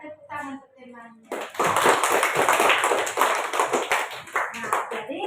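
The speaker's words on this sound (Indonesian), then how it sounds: "tepuk tangan untuk temannya" A classroom of children bursts into lively, close applause for a classmate, clapping steadily for several seconds right after a voice speaks.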